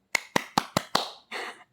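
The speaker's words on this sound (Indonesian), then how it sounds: "Tepuk tangan dulu dong." Five crisp hand claps in an even, quick rhythm, close and fairly loud, followed by a short burst of softer, hissing clatter.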